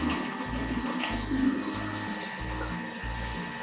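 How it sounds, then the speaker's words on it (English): Thermomix mixing crepe batter with melted butter inside, a muffled motor whir with a regular pulsing throb that repeats about every half second, steady and close. "then you blend"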